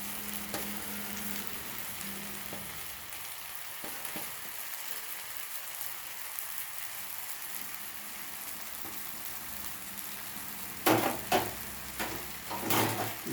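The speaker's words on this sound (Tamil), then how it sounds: "இப்போ நான் இதில் கட் பண்ணி வச்சுருக்கிற இந்த பண்ணை இதில் நான் போட போகிறேன்" Cut bun pieces fry in masala in a pan, giving a steady, close sizzle throughout, with a few louder clanks of a utensil against the pan near the end.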